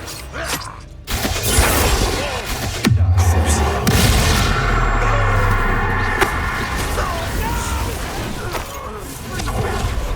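Bombarda and Expelliarmus spell effects from Hogwarts Legacy: loud, dense magical blasts and whooshing bursts with creaking, grinding mechanical textures, sustained over several seconds amid game combat, with voices shouting over it.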